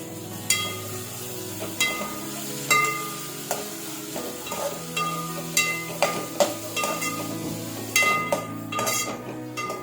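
Spicy noodles stirred in a pan, with repeated sharp knocks and scrapes of a utensil against the metal over a soft frying hiss, close up and irregular in rhythm.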